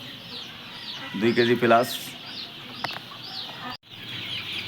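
A few clucks from a flock of chickens, one of them a 55-day-old Tiger bird, sound close by in a poultry yard, and a person briefly speaks between the calls.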